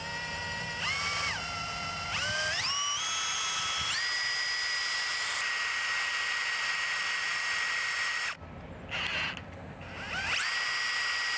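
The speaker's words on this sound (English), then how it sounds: "I'm gonna get another 30 seconds on the drill twisting." A power drill twists enamel-coated copper wire strands into a line, its motor whining steadily with pitch swells as it speeds up and settles, running almost continuously with one brief pause.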